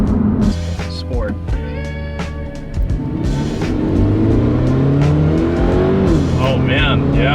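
A Toyota 86 fitted with a TRD air intake revs hard nearby, its engine note climbing in rising sweeps through the second half, with brief voices in the cabin.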